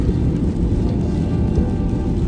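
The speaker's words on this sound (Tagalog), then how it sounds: "sa area na to, medyo lumakas naman ang ulan at yung visibility is very low" Heavy rain pounds a car while driving in low visibility, a dense, loud, steady wash of rain and road noise with no break.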